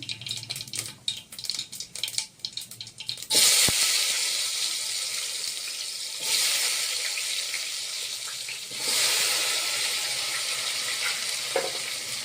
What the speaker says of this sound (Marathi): जिरे टाकले की लगेच कांदा टाकू आपण